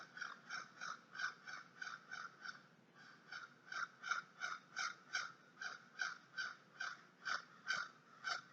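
A series of rhythmic, harsh bird calls repeating steadily for several seconds, fairly close, with a brief pause midway before the calls resume.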